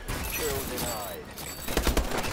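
Rapid gunfire bursts from the Call of Duty Advanced Warfare video game, a crackling volley that swells near the end, mixed with game effects and with people talking over it.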